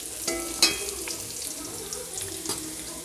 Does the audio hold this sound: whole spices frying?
yes